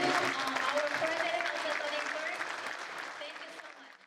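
Standing ovation from attendees approving a newly confirmed Korean community association president, broad clapping that starts strong and gradually tapers off, with a voice talking over it through most of the stretch.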